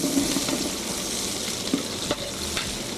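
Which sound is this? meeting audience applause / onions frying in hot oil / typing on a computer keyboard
onions frying in hot oil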